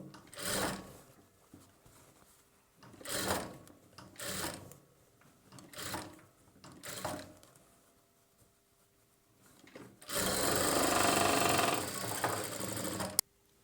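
A sewing machine stitches blouse sleeves in a series of short whirring bursts separated by pauses, followed by a longer, louder continuous run near the end.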